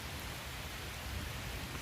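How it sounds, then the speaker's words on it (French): Steady rain hissing down, a dense even wash of noise with no breaks. "donner un ordre d'idée comment il pleut maintenant"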